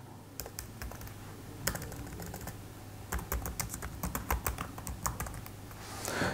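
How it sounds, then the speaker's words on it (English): Keys clatter on a computer keyboard in quick, irregular taps, close and fairly quiet over a steady low hum, with no voices. "Let me type health insurance."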